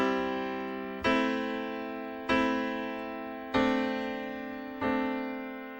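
Piano sounds four sustained chords over low bass notes in a slow repeating three-chord progression, each struck clearly and left to ring and decay before the next, alone with no talking.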